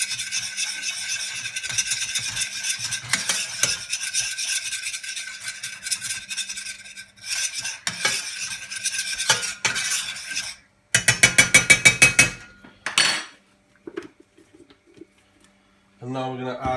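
English mustard powder being stirred into a mixture, with scraping and rubbing strokes against a bowl, close up and fairly loud, broken by a few short sharper clatters and brief pauses.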